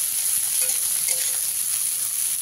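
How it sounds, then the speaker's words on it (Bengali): Chopped onion frying in oil in a pan over a medium gas flame, a steady close hiss of sizzling with faint stirring, no voices. "পেঁয়াজ কুচিটাকে একটু লাল লাল করেই ভেজে নিতে হবে।"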